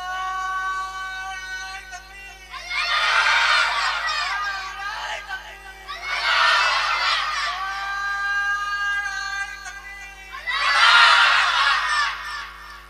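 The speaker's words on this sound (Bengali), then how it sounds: "তাকবীর মারো তো দেখি।" A crowd of children shouts the takbir together in three loud, sustained bursts spaced a few seconds apart, rising and falling with a steady low hum underneath.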